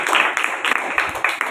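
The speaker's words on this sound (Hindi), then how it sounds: "जोरदार तालियां बजाएं।" A church congregation applauds in loud, dense waves of clapping that swell and dip in short pulses, with a voice faintly mixed in.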